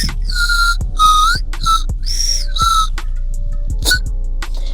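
Bright, piping whistles blown through a Chupa Chups Melody Pops lollipop, loud and close, in a run of short tooting bursts with brief gaps between them and no talking.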